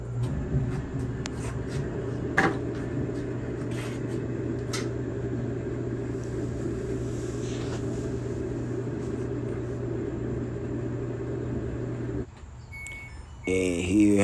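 A Samsung front-load gas dryer runs after its idler pulley was replaced, giving a steady, even hum and low drone for most of the stretch before it drops off and a voice speaks briefly.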